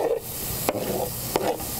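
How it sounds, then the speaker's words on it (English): Shallots and thyme sautéing in a pan, an even close sizzle with two sharp knocks of a utensil against the pan partway through. "We're going to saute the shallots and the thyme together."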